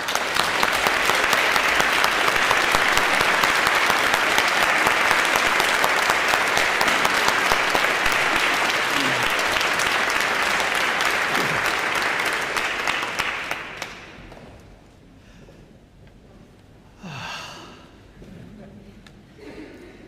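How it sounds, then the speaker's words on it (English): Graduates at a college graduation ceremony applaud their families and friends, a dense, loud sustained wave of clapping filling a large hall for about thirteen seconds before tapering off, with a speaker's voice following. "turn around and offer a generous applause to your families and friends that have supported you"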